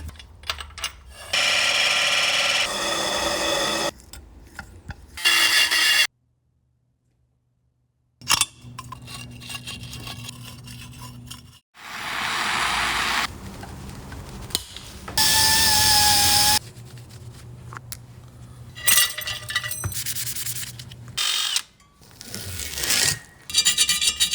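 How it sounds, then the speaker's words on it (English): A milling machine squaring off a CR 500 motorcycle casing, with loud grinding and rasping cuts in uneven bursts broken by short silences and some tonal whine, close up. "I'm going to put this in the milling machine I'm going to square this off and then re-tap this hole."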